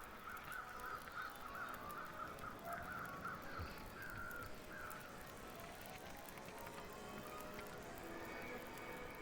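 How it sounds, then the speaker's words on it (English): Crow cawing in a quick run of harsh calls near the start, then a couple more farther off, faint over a steady rustling outdoor background. "Catching an occasional crow at the top here."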